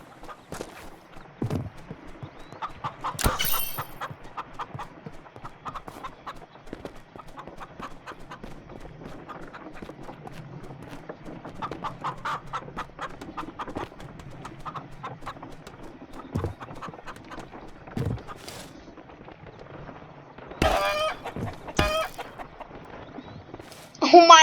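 Chickens cluck in the Shotgun Farmers video game, with scattered short clucks and squawks over a steady bed of busy game sound, some louder sharp bursts near the end.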